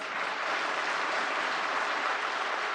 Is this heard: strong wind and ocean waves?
no